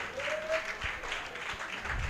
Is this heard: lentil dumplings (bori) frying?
no